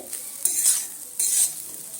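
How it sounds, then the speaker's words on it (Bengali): Semolina with peas, carrots and beans is stirred and fried in a pan, two bursts of scraping spatula strokes over a soft steady sizzle, close and fairly quiet with no talk. "আরও সুজির সাথে এইভাবে মিশিয়ে দিয়ে আরও মিনিট পাঁচের সময় নিয়ে ভেজে নিতে হবে"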